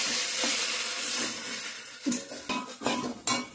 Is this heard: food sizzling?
yes